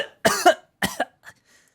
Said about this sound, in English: I kept on coughing, struggling desperately to get oxygen in my lungs.